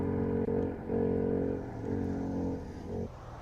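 A race car engine at the Simola Hillclimb cycles on and off the throttle, strong harmonic revs rising and dropping in several surges, loud and steady at middle distance with no voices over it.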